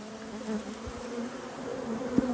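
Honey bees from a massive colony hum steadily inside an opened hive during a frame inspection, with a close and continuous buzz and faint clicks of frames being handled.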